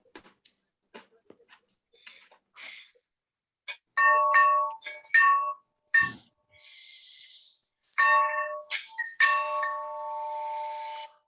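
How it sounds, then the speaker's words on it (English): A large bell rings repeatedly at a community club meeting, a series of clear tonal strikes with lingering ringing, preceded by scattered small knocks and clicks in a quiet room. "I like the bell. yeah, it's a big one too. It kept repeating itself."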